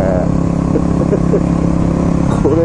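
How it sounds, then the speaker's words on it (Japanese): Off-road motorcycle engine fitted with a loud Barrel 4 aftermarket exhaust on a dirt course, running close and loud with a steady throbbing drone and brief blips of revving. "これね、バレル4がついてんですけど、バレル4うるさいっすね"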